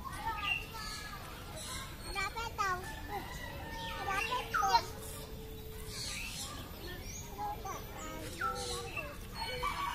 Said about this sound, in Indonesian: Ayam. Iya. Ayam. Chicken. Chicken. Daddy chicken.